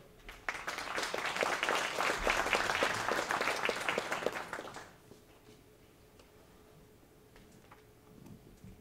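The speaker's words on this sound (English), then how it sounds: "please do give yourselves a round of applause" Crowd at a Republican gathering claps in a loud, dense round of applause lasting about four seconds, then tapers off into a quiet hall with faint murmuring.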